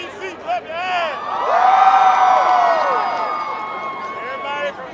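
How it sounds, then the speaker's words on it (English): A rally crowd on the National Mall clapping and cheering, a broad swell of applause and shouts rising in the middle and easing off, with voices and whistles over it. "Everybody from DC, clap your hands."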